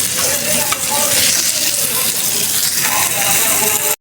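Spice masala sautéing in a pan, loud busy sizzling with scraping and clinking of a spoon as it is stirred, continuous and close.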